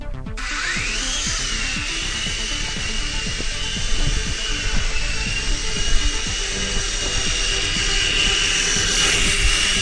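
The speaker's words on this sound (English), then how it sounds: "let's see if we can get a good flight out of this one." An RC toy quadcopter drone with four rotors taking off and flying, a loud, steady high-pitched buzzing whine that rises at spin-up and holds for about ten seconds, with slight wavering in pitch, close by.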